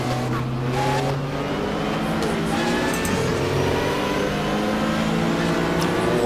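Race cars at full speed on the track during the 1995 Daytona 24 Hour, a Porsche among them, engines roaring continuously with shifting revs and passing drones and a brief tire squeal. A commentator talks over the racing throughout.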